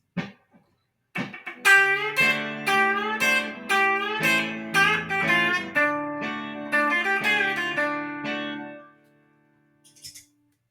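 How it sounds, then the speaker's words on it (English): A country guitar plays a Bakersfield turnaround with chicken picking: crisp, twangy, rapid plucked notes in a quick rhythmic run that rings out and fades, with a few stray plucks after, played solo and close. "example 2, the Bakersfield turnaround. So it's going to sound like this."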